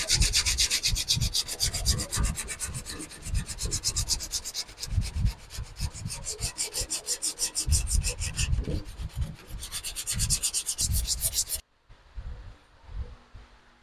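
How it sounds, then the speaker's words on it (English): Sandpaper rubs back and forth over body filler on a 1962 Ford Falcon, a steady close-up rasping of quick strokes for about eleven seconds before stopping abruptly into near quiet. "that little bit of sanding, it slicks up pretty nice"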